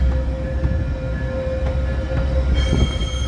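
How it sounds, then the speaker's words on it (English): A Chicago Metra commuter train pulls out of Union Station, its wheels squealing and rumbling steadily and loudly against the rails, heard from nearby along the street. "There's the Metro pulling out of Union Station there."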